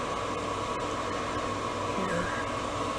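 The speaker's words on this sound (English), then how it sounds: "I do apologize for the noise of the fan" Steady whooshing of a stove range hood fan with a faint hum runs unbroken throughout, close and moderately loud, with no voices.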